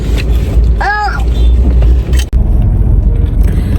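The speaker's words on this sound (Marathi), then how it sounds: "तर आता बघू ही ट्रॅफिक कधी संपते" Heavy holiday road traffic on the way to Lonavala, with a loud rumble of nearby vehicles, a brief horn-like tone and a sharp knock partway through.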